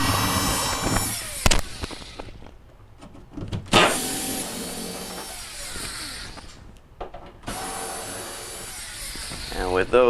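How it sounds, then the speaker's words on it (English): A power driver whirs in several short, close bursts while backing quarter-inch screws out of the back panel of a Frigidaire refrigerator, with quieter handling noise between bursts. "we'll take off this back panel. There's a couple of 1/4 inch screws."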